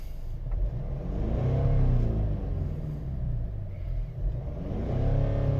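A 2011 Mercedes-Benz GLK 4MATIC with a warmed-up 2.2 CDI diesel engine and 7G-Tronic gearbox revs up twice with a rising then falling drone and a steady diesel rumble between, heard close and alone.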